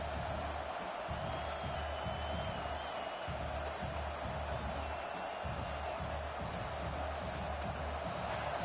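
A dense, distant-sounding stadium crowd at an LSU versus Texas A&M football game roars steadily for several seconds, a continuous wash of cheering and whoops.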